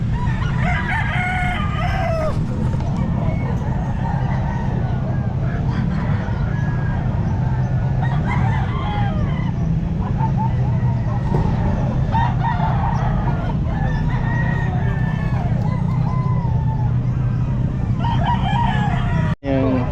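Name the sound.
roosters crowing at a pet market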